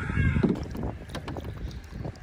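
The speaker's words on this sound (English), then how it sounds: "We got Owie helping us paddle" Kayaks paddling on the New River in Todd, North Carolina, with the splash and drip of paddle strokes against water and gusts of wind noise on the microphone, close and continuous.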